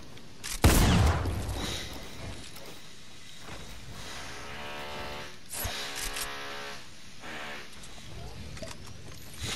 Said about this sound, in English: More shooting over there. More shooting.